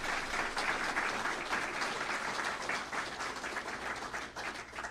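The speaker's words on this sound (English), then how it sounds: "please give a big round of applause to these guys." A room of press conference attendees applauds Florida Highway Patrol troopers, a continuous round of clapping from many hands that stays loud and even throughout.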